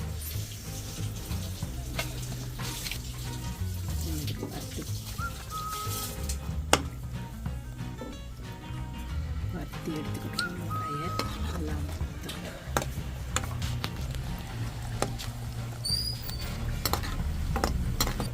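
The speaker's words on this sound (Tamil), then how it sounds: "மிளகாத்தூள் போடுவேன் இது கொஞ்சம் எண்ணெயில் வறுத்தால் நல்லாயிருக்கும்" Chili powder being stirred into hot sesame oil for a pirandai (veld grape) pickle, with a steady low frying sizzle and occasional scraping stirs running continuously throughout, close up.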